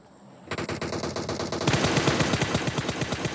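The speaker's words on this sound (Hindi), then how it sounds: "भाई साहब वहाँ पर फायरिंग चालू होती है" Rapid automatic gunfire in the battle-royale game PUBG, starting after a brief quiet moment and building into a dense, loud stream of repeated shots that grows heavier and more continuous toward the end, with no talking.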